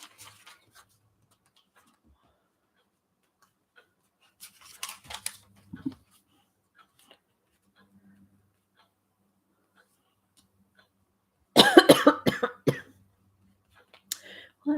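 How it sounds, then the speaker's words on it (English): A person coughs and clears their throat indoors while working on a journal page: scattered small noises, a short rough throat-clear, then a loud burst of coughs later, with long quiet gaps between. "This cough is trying to take hold."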